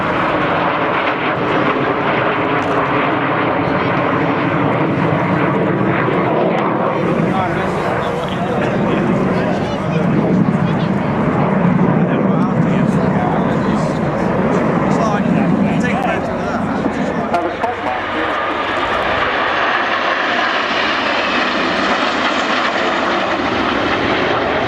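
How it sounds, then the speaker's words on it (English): Team Viper's private jets roar past in an air display at Waddington, a loud sustained engine rush that swells and shifts in pitch as the aircraft pass, with a voice talking over it. "this is the world's only private jet team"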